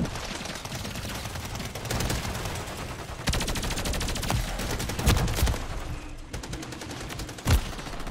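Turret fire in a shooter video game: sustained bursts of automatic gunshots, loud and close, broken by short pauses and sharper single cracks.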